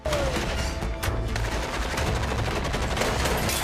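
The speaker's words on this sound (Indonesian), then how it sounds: "Mereka terlibat adu tembak." Dense, continuous gunfire from a film shootout, with rapid overlapping shots and bursts filling the whole stretch at steady loudness, no clear speech on top.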